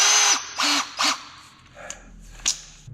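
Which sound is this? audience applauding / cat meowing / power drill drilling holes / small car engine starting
power drill drilling holes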